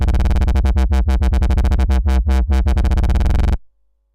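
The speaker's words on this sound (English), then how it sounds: "when we hold a note down and adjust the modulation wheel, we actually adjust the LFO1 rate too" A held synth note wobbles under LFO1, with the mod wheel pushing its rate, so the pulsing slows and then quickens in loud throbbing chops before cutting off abruptly near the end.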